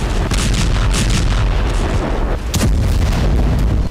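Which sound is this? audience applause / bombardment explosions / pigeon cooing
bombardment explosions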